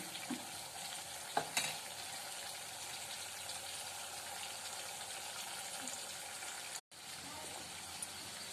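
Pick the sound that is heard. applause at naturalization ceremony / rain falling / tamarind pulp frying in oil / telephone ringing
tamarind pulp frying in oil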